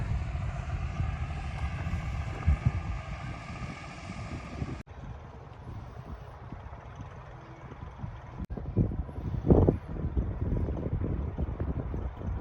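A 5620 tractor fitted for potato ridge work runs its engine in a field, a steady low rumble with harmonic drone throughout, buffeted by wind noise on the microphone.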